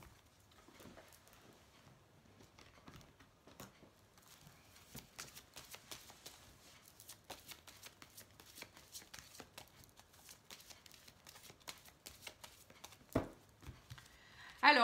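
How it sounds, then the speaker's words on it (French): An angels of love oracle deck is shuffled and a card is drawn, giving soft, rapid riffling taps and flicks that build toward a louder slap at the end. The sound is quiet and close, with no speech. "Je vais peut-être tirer une petite carte des anges de l'amour"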